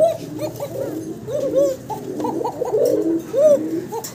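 A breeding pair of pigeons, the hen red-coloured, coo back and forth close by. Repeated throaty, rolling coos overlap in quick succession with no pause.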